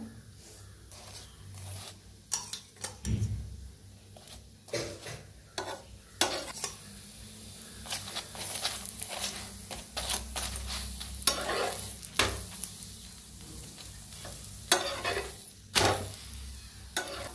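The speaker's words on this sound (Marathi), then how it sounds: "तर मस्त अशी चपाती भाजली गेलेली आहे बघा दोन्ही साइडने" A chapati roasts on a hot griddle with oil brushed over it, giving a soft continuous sizzle broken by frequent scraping and flipping strokes of a spatula, up close and fairly quiet.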